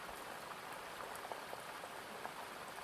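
Steady rain patters on a surface, an even hiss dotted with faint scattered drop ticks, no voices.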